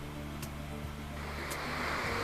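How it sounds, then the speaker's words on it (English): Stormy sea surf washing over the rocks at Peggy's Cove, a steady broad wash that swells slightly toward the end, heard alone without voices. "here the waves are washing away the rocks"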